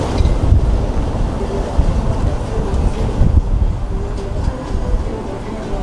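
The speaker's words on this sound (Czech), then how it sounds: "Pěkně tady ta fouká." Heavy, steady wind roars and buffets across the microphone in Faro, in Portugal's Algarve, a dense low rumble filling the whole stretch without letup.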